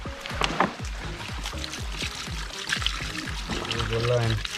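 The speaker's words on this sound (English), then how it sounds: "Add some water." Water is poured over cut raw chicken pieces with lime in a Jamaican home kitchen, splashing and trickling in bursts amid clattering and handling noises, close to the microphone.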